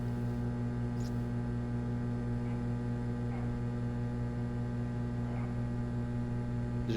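A faulty fluorescent lamp starter in a haunted-room horror video game, giving off a steady, loud electrical hum with buzzing harmonics that runs unbroken, with a few faint clicks over it.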